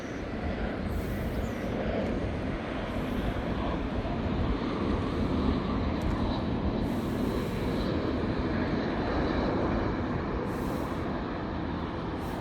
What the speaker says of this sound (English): Oh, look, we get to witness a plane landing.